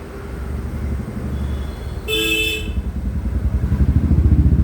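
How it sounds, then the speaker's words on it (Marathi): Electric motor driving a three-piston pump at a vehicle washing setup runs with a steady rhythmic chugging that quickens and grows louder, with a short high horn-like tone sounding midway. "कसे बघा पिस्टन चालत आहेत मोटरचे."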